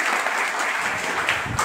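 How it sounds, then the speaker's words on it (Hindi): Audience at a mobile repair training class applauding a student, a dense burst of steady clapping from a room full of people, fairly loud and close, with no talking over it. "इनके ताली बजाइए।"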